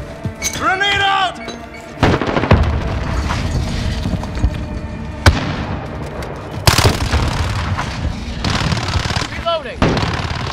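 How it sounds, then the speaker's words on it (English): Combat in Call of Duty Modern Warfare, with rapid machine-gun bursts, sharp single shots and several heavy booms including a grenade blast, all loud and close, over game voice chatter and whooshing effects. "Grenade out!"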